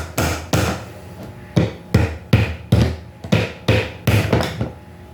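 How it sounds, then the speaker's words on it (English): Batoning tough wood with a Gordon pocket knife with a 2.9-inch blade: about nine sharp, loud wooden knocks struck in an uneven steady rhythm, close by, with no talking. "can you tell that I don't generally baton my wood here?"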